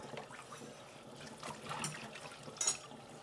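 Air fryer parts being rinsed under a running tap, a steady close splash of water with a brief louder burst near the end, no voices.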